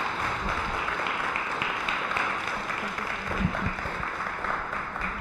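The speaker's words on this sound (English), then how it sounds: "please give a warm round of applause" An audience at a talk applauds in a steady, dense wash of clapping that holds at an even level throughout, with no voices standing out.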